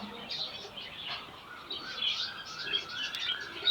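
Faint, high chirps and tweets from several small birds overlap continuously in a quiet indoor bird shop.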